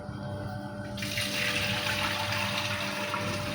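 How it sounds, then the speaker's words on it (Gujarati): Water pours steadily into a flour mill to clean it, starting as a faint trickle and rising after a second into a continuous, close gushing flow over a low mechanical hum, with no talking. "ઘંટી સાફ કરવું પહેલાં હવે પાણી રેડી દે"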